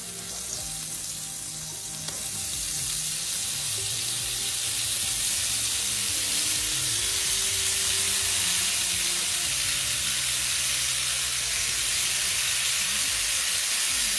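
Chopped onion and ground beef fry in a hot pan for corn beef hash, giving a steady, close, continuous sizzle with faint stirring and no talk throughout.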